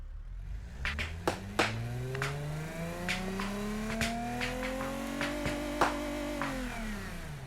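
A BeamNG.drive game car engine revs steadily with rising and falling pitch, layered with sharp clicks and gear-shift pops, sounding synthetic and close.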